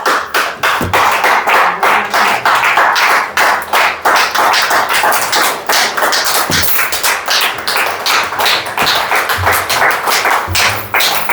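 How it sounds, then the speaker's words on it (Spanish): A church congregation claps for the Lord, loud, sharp, close hand claps in a fast irregular stream, with occasional deeper thumps mixed in and no talking. "Denle un aplauso al Señor."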